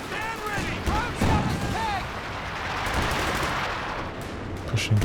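Company of Heroes 2 battle: scattered gunshots and bursts of machine gun fire crackle amid rumbling explosions and whistling shells in the game's combat din, with voices talking over it.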